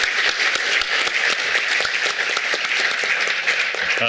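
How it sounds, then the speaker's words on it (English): Steady, loud applause from a panel session audience at an eco-industrial park event, dense clapping filling the whole stretch without pause, with a brief voice near the end. "Request to give a big applause to our panelists."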